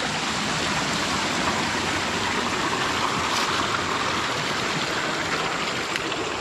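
Stream water in the Philippine countryside rushes in a steady, dense, broadband flow that stays constant and close throughout, with no voices.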